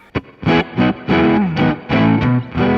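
An electric guitar plays through a pedalboard with reverb switched on, a quick run of distorted, choppy chords and notes close and loud, each with a short wash of ambience.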